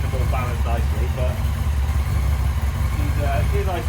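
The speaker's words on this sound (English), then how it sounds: "She's idling quite nicely, maybe idling a little bit high, but she runs." A Yamaha R6 motorcycle engine idles steadily and slightly high, a close, continuous low rumble, with a person's voice intermittently heard over it.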